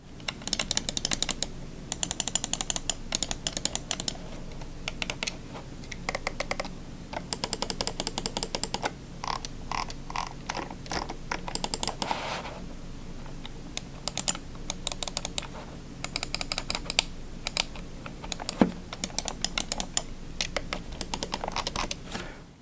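A Logitech G MX518 Legendary gaming mouse being clicked repeatedly, crisp sharp clicks in quick bursts and irregular runs with short pauses, close up for over twenty seconds with no voice.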